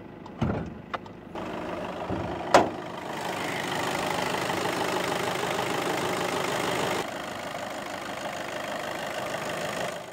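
A 2017 Volkswagen T-Roc TDI 4Motion with a 2-liter turbo diesel inline four idles under the open hood, a steady continuous rumble after a few sharp knocks and clicks at the start.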